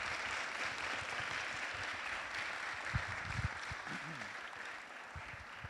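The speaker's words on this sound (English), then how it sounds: "So round of applause to our youth council." An audience at a city council meeting applauds the mayor's youth council, a sustained even clapping from a roomful of people, with a voice briefly audible underneath.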